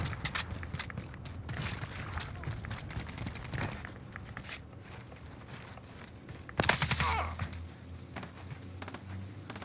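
Bursts of gunfire from Call of Duty: Modern Warfare, rapid crackling shots in clusters with a louder, denser volley near the end, all over constant in-game background noise.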